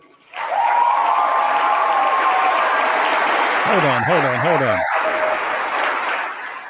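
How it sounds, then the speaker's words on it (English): A large audience bursts into sustained, thunderous applause that starts abruptly and holds steady and loud, with a voice cutting in briefly near the end. "It was all thunderous applause."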